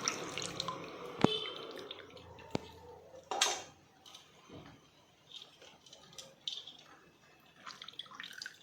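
Soaked tamarind pulp squeezed by hand in water for Andhra-style pappu charu, giving close, quiet wet squelches and drips with scattered sharp clicks against a bowl, no talking.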